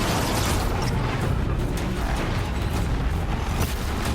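In Horizon Zero Dawn, a huge Thunderjaw machine creature fights up close, filling the scene with loud, continuous mechanical grinding, creaking metal and rumbling booms, with no voices.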